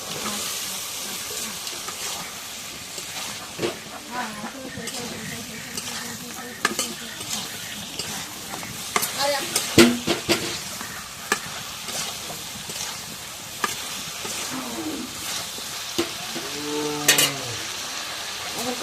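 Spices and fish are sautéed in a pan, giving a continuous crackling sizzle with frequent scraping stirs and clinks from a spatula, heard up close, with faint talking now and then.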